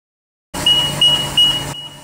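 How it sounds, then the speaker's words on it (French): A high electronic power-on beep from a pasteurizer sounds three times in quick succession, loud and close, as a single tone continues, then cuts off abruptly. "Le bip sonore à l'allumage est coupé"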